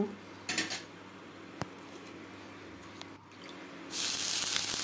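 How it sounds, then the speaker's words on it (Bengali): Water sprinkled onto a hot frying pan for a dosa gives a brief spatter, then a loud steady sizzling hiss takes over near the end amid light kitchen clatter. "আর ফ্রাই প্যানে সামান্য এরকমভাবে জল ছিটিয়ে দিলে ধোসার ইয়েটা ভালো হয়।"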